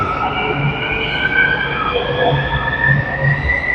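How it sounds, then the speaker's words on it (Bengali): A train pulls out of a station in Malaysia with a loud, steady rumble and rising whining motor tones that drift in pitch as it moves off. "ট্রেন চলে যাইতেছে।"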